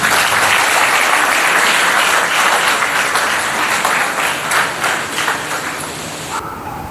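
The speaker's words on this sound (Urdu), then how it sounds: "زوردار تالیوں میں۔" Loud, sustained applause from a church congregation at the Feast of the Translation of the Relics of St. Dominic, dense clapping filling the whole stretch and fading slightly before cutting off at the end.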